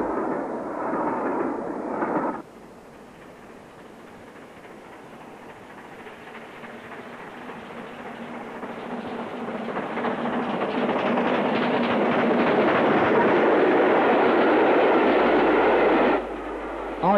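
A down express hauled by the Great Western steam locomotive Castle Hall passes Iver on dead-level track, a rushing roar that swells steadily from a quieter rumble to a loud, close peak before cutting off abruptly near the end.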